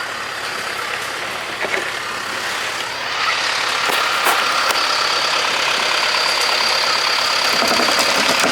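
A John Deere 5425 tractor engine drones steadily as it drives along a farm track. The rumble is close and constant and grows louder after a few seconds.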